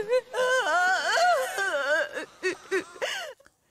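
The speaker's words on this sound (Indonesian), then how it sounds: "bayi tersebut hidup kembali dan menangis sangat kencang" A baby wails loudly in an Indian action film, with long rising and falling cries followed by shorter broken sobs that fade out.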